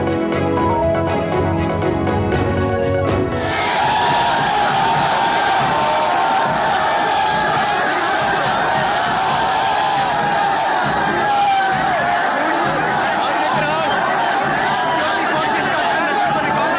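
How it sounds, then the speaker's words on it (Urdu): Fans of javelin thrower Arshad Nadeem cheer and chant slogans while dancing bhangra at the airport, a dense, loud crowd roar with whoops and babble, preceded by a few seconds of music. "مداحوں کے بھنگڑے اور نعرے بازی۔"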